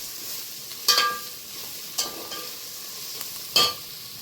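Garam masala stir-fried in a pan for chicken pulao, with three short scraping stirs of a spoon over a low, steady sizzle, close and without talk.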